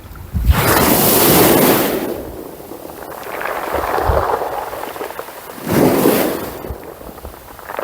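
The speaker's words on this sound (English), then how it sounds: "The wind has picked up a bit." Gusty wind blows across an open fishing spot, loud roaring rushes that swell, ease off and surge again, buffeting the microphone with no voices.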